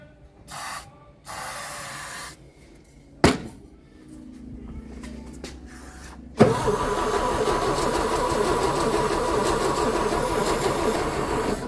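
A Volkswagen G60 engine in Tibooburra is started on starting fluid: a few bursts of cranking and spray give way to a sudden catch, and the engine then settles into a loud, steady running roar.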